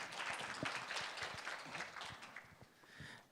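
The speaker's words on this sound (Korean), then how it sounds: "큰 박수로 모시겠습니다" Faint applause from a conference audience, a soft patter of many hands clapping steadily for a few seconds with no one speaking.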